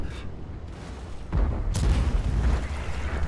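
A tank cannon fires in a video game, an E 50 M: a heavy boom followed moments later by a sharper, louder blast with a long rumbling tail, close and alone.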